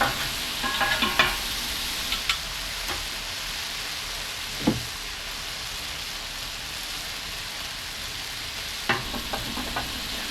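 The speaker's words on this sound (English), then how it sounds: "we'll give this one good final toss up here" Thai ginger chicken and vegetables in sauce with parsley sizzle steadily on a griddle while being tossed, with a few sharp spatula scrapes and clicks cutting through the constant frying hiss.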